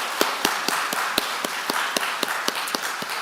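A church congregation claps at a Sunday worship service in Baltimore, a sparse, moderately close round of individual hand claps in an uneven rhythm, with no talk over it.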